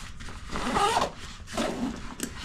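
Zipper on an Osprey Farpoint 40L travel backpack being pulled open in two long, close strokes with a short pause between, rasping loudly with no talking.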